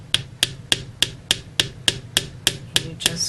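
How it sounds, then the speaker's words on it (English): Light, evenly spaced metal taps of a hammer on wire over a bench block ring out about a dozen times in a steady rhythm, crisp and close. "just start tapping it lightly with your hammer"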